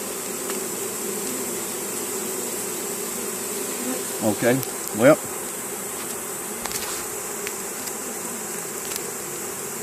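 A honeybee swarm buzzes steadily in the background at an equestrian site, with a few louder passes as individual bees fly close by; a voice briefly speaks.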